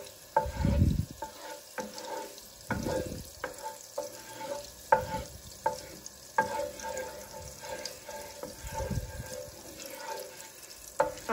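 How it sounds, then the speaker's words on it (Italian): Butter melts in a frying pan with a soft, low hiss under repeated clattering and scraping of utensils, plus a few dull low bumps. "facciamo sciogliere bene il burro."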